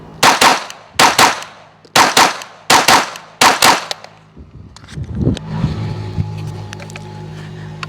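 A Glock pistol fires a doubles drill, about five quick pairs of sharp, loud, close shots at an even pace, followed by rustling and faint handling noise.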